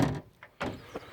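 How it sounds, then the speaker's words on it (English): A door on a 1971 Range Rover A-suffix bobtail shuts with a solid thunk, followed by a softer latch knock, heard close up. "Notice how nicely the doors close as well."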